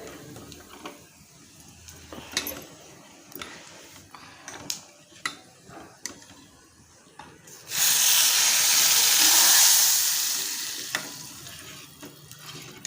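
Hot garlic-and-turmeric tempering (phodni) is poured over a cooked Marathi garagata dish and erupts into a loud, sustained sizzle of a few seconds, fading gradually after scattered stirring and clinking sounds.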